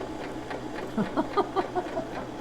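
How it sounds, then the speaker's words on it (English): A sewing machine at a first sewing lesson runs faintly in a few short rhythmic bursts of stitching, quiet and close, with a low background hum. "you are sewing"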